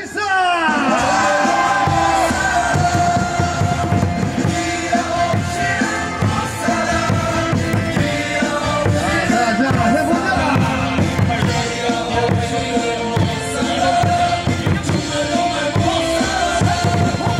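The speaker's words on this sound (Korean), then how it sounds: "다 같이 타이거즈 역전 승리를 위한 함성" Stadium crowd at a Kia Tigers baseball game at Gwangju Champions Field roars, shouts and whoops steadily, a dense loud wall of voices with music-like tones underneath, sustained throughout.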